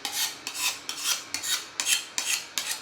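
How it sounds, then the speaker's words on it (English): A knife being sharpened on a diamond blade sharpener in a home kitchen, with seven rhythmic rasping strokes, each a gritty scrape of steel on abrasive, close and clear with no talk. "It's a diamond blade sharpener. Sharpens your knives great."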